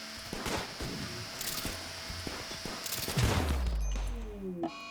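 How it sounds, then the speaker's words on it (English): Turrets in the video game RimWorld fire rapid bursts of gunshots, dense overlapping volleys with sharp cracks and a deep thud rising near the end. "Getting shot at by the turrets"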